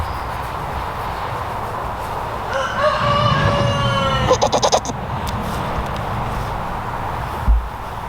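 Young roosters about sixteen weeks old give a short, scratchy crow in the middle, followed by a few sharp broken calls, set against a steady outdoor background.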